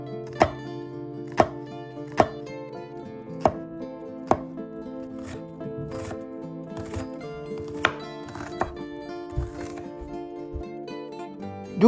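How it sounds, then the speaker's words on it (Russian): Red onion being chopped as finely as possible with a knife: sharp, evenly spaced blade strikes, about one a second, close and clear over steady background music. "Немного красного лука. Нарезаем как можно мельче."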